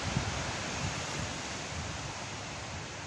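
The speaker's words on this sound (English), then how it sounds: "as you can see, the wind, it's doing its thing." Wind blows steadily before a storm in a tropical coastal garden, a continuous broadband rush with gusting buffeting on the microphone and no voices.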